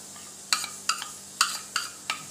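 Alphonso mango pulp stirred into warm, thickened milk with a spoon against the vessel: five or six crisp clinks in an even rhythm, close and fairly loud, each with a short ringing tail.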